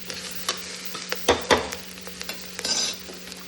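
Onion frying in a pan, a steady soft sizzle under a few scraping stirs and light utensil knocks, close up with no talking.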